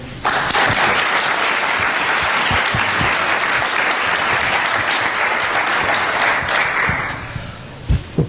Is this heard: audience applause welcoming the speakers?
yes